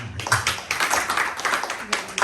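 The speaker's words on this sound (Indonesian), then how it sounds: "Tepuk tangan dong ya." Congregation clapping hands during a church sermon, a dense burst of claps that swells, dips briefly and returns, moderately loud and close.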